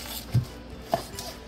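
A knife cuts the top and bottom off an onion on a cutting board, two short distinct thuds about half a second apart, close and fairly quiet, with no voices.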